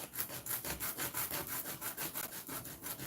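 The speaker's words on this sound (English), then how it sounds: "Gotta do a lot of sanding on this thing." Rhythmic back-and-forth sanding strokes on a plastic model kit part, steady and close, about a dozen gritty rasps in quick even succession with no talking.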